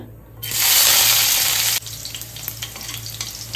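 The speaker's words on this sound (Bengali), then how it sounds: "তেলটা গরম হয়ে গেছে। প্রথম দিয়ে দিলাম রসুনটা।" Garlic hits hot white oil in a wok with a sudden loud sizzle that lasts about a second and a half, then drops to a softer crackling fry.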